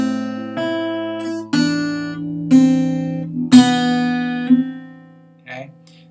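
A measure of O'Carolan's Welcome is picked out on plucked strings, with a series of clear, ringing notes struck one after another at an unhurried pace, each sustaining and fading, close and alone.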